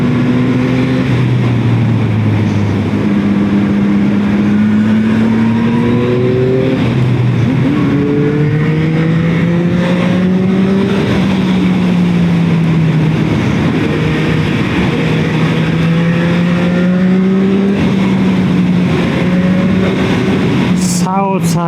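Yamaha XSR 900 motorcycle engine revving while riding outdoors, its tone rising and falling through gear changes as a steady, loud drone with wind rush, while a rider talks over it.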